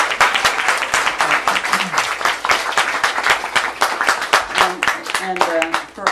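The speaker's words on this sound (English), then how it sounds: "they should get a big round of applause" An audience at an evening literary reading for a magazine issue launch bursts into sustained applause, a dense, even wash of many hands clapping that runs throughout, with a bit of voice mixed in near the end.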